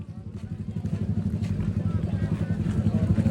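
Motorcycle engines rev at a motor show in Alaminos City, Pangasinan, making a loud, steady low rumble with rhythmic pulsing throughout, under crowd noise.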